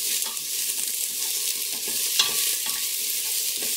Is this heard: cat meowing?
no